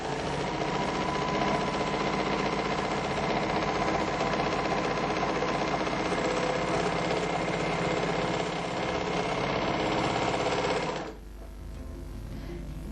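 A MerrylocK 3000CL overlock sewing machine stitches fabric in a loud, steady, rapid mechanical whir with rhythmic knocking for about eleven seconds, then stops abruptly, leaving a quiet room.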